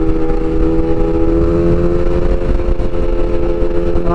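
A motorcycle cruises along highway 95 in traffic, its engine holding a steady, loud drone under rushing wind with no break.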